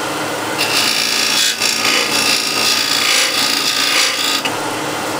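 A skew chisel cuts a small dovetail into wood spinning on a lathe, a loud, continuous close scraping hiss with slight swells in texture and no talk.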